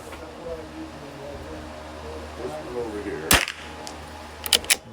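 A .22 rimfire match rifle fires once as a sharp, close crack midway, followed by a couple of quieter clicks of the action over a low outdoor background.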